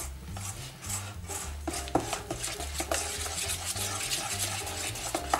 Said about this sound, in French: Donc on va mélanger le tout gentiment.